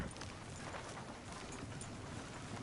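Horse hooves gallop in a PS4 video game, a fast, steady drumming of clip-clop beats heard close up over a dense rumble of game sound.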